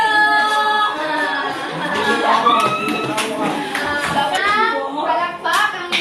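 A grade 5 classroom of children applauding together during a TLE cooking demonstration, steady clapping from many hands with kids' voices and chatter mixed in throughout.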